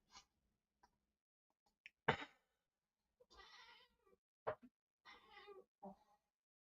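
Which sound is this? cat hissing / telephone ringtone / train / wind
cat hissing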